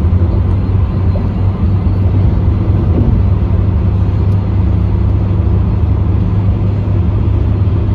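A car driving in a highway commuter lane, a steady loud low road rumble with tire and engine noise, unbroken throughout with no talk.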